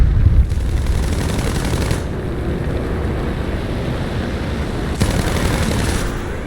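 A Bf 109 F2 fighter in War Thunder fires its guns in a steady rapid burst over a constant engine drone, with brighter bursts near the start and again toward the end.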